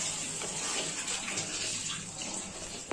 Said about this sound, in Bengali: আর একটু দেবো জল, সম্পূর্ণ মাছটা গামা গামা যেহেতু হবে কালিয়ার